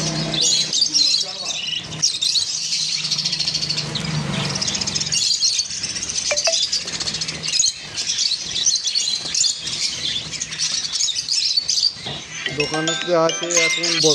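Java sparrows and cockatiels chirp and tweet in a crowded bird shop, a dense continuous twittering that stays loud throughout with someone talking over it.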